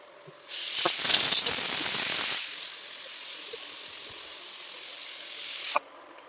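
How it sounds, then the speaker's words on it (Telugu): A pressure cooker whistle shrieks loudly with hissing steam while brinjal and green peas curry cooks, a sharp burst easing into a steady jet of venting hiss that stops abruptly near the end. "2 విజిల్స్ వస్తే సరిపోద్ది."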